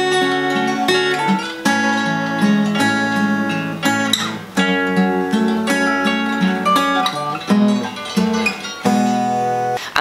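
An acoustic guitar picks the arpeggiated intro of a song up close and clear. Chords change steadily for the whole passage, with no voice over it.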